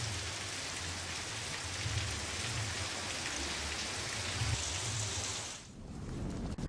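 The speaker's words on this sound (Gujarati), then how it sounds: "વહેલી સવારથી જ વરસાદ વરસી રહ્યો છે." Heavy rain pours down steadily in Sabarkantha, Gujarat, a dense, continuous hiss of downpour on surfaces, loud and close, easing suddenly near the end.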